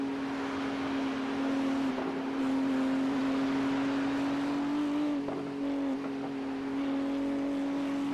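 A GT3 race car powers out of a corner at Bathurst, its engine holding a steady, droning high-rpm note with a strong sustained tone across the whole stretch, loud and continuous with no talk.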